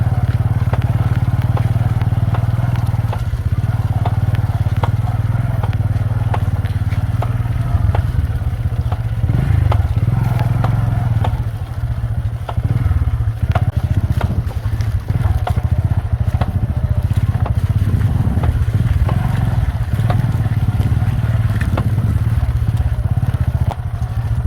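A motorcycle rides slowly over a slippery, broken road damaged by lorries, its engine droning steadily and close. Bumps, clatters and scrapes come from the rough surface, with no talk.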